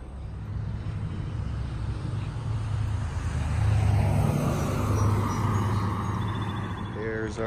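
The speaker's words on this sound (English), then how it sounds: "There's our bus right there, so I'm gonna catch it" City bus pulling in to a downtown stop, its engine rumble swelling over steady street traffic noise, with faint voices in the background.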